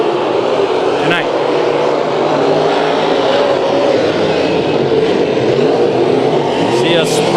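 Race cars circle Bakersfield Speedway during a fast, spread-out heat race, producing a steady, loud engine roar with whining passes throughout, while an announcer talks over the noise.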